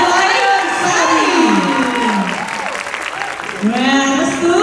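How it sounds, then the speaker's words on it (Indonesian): An audience at an arts event applauds after a dance drama performance of Jayaprana Layonsari. Close, lively clapping mixes with cheering and excited shouts that dip briefly midway and then swell again. "berikan tepuk tangan yang meriah untuk fragmentari Jayabrata dan Layang Sari"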